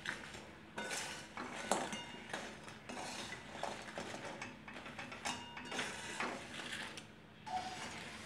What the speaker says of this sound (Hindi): धीरे धीरे करके अरबी को हम हिलाएंगे ताकि अरबी टूटे नहीं